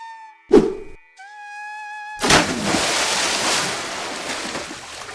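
Ocean surf washes in as a steady broadband rush after a brief thump and a few sustained synth-like tones, with the waves continuing loud and close to the end without any talk.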